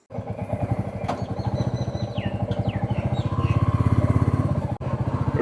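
A Royal Enfield motorcycle, the Tiger, runs close by with a strong, steady thumping exhaust rhythm that swells slightly as it revs, while faint voices and birdsong sit in the background.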